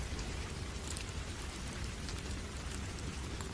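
Heavy rain pours steadily in a dense, continuous hiss with a low rumbling undertone, loud and unbroken throughout.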